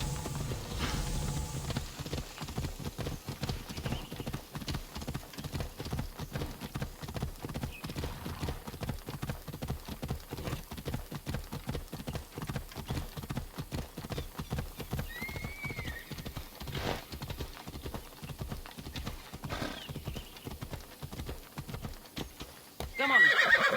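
Horse galloping in the video game Assassin's Creed Odyssey, a fast even run of hoofbeats thudding steadily for many seconds, with an occasional whinny and a louder burst at the very end.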